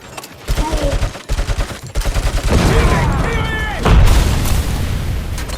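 A grenade blast and heavy gunfire in the video game RoboCop: Rogue City, with loud rapid bursts of shots and deep booms that build into a sustained roar of combat.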